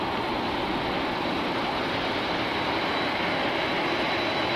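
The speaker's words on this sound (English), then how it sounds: "These General Electric engines." A Cathay Pacific Cargo Boeing 747-8F with General Electric engines landing on runway 25L at Los Angeles, a steady loud broadband jet roar holding constant throughout with no talk.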